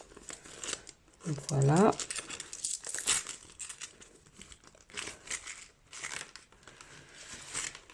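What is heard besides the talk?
money put into a paper envelope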